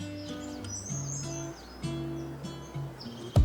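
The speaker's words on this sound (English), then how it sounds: "Listen to all those birds" Several birds sing and chirp outdoors in Spain, their overlapping calls and trills fairly close and clear over a quiet background with no talking.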